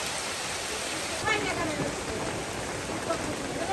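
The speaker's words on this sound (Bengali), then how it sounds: "বৃষ্টির ভিতরে আমরা একটু চা খেতে আসলাম" Heavy rain falls steadily at a village market, a dense, even hiss that continues throughout, with no clear voices above it.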